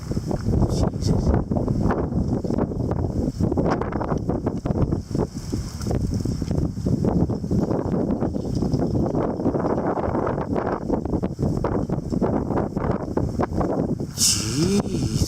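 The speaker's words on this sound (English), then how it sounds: "We are talking like 60, 70k gusts here." Strong gusts from a winter wind storm with light snowfall pound the microphone in continuous heavy roaring and buffeting, loud and unbroken for the whole stretch, with rustling debris and a brief brighter rattle near the end.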